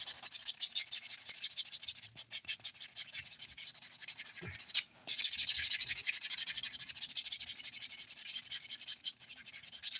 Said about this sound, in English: We'll quickly buff.